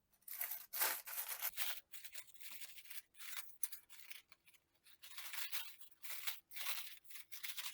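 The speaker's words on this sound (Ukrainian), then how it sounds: "Ось так розкриваємо фольгу." Aluminium foil is peeled open from oven-baked ribs, giving bursts of crisp crinkling and rustling that come in uneven waves, close and fairly soft, with short quiet gaps.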